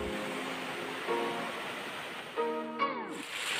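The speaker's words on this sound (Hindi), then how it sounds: "पानी का शोर बहुत ज़्यादा है" Steady broadband roar of Kiwai waterfall in Kaghan Valley, constant rushing water close by, with a few brief tonal sounds like voices or calls rising over it partway through.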